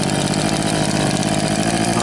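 A brush cutter engine runs steadily and loud at close range while clearing weeds among oil palms, a continuous buzzing drone holding a fairly even pitch throughout.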